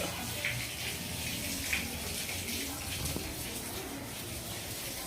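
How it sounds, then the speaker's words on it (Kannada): Steady splashing and running water, poured and sloshed over a door to wash it outdoors, continuing evenly throughout with faint background noise. "ಇಲ್ಲಿ ಹೊರಗಡೆ ನೀರು ಹಾಕ್ತಾ ಇದ್ದಾರೆ, ಬಾಗಿಲು ತೊಳಿತವ್ರೆ"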